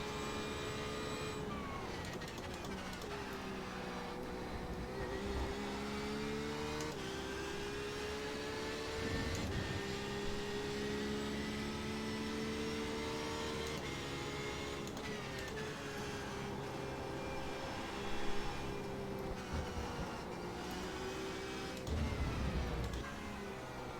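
Porsche 911 RSR race car engines roar continuously in a racing game at Interlagos, a steady layered whine of several cars with shifting pitch as one closes in, loud throughout with no talk.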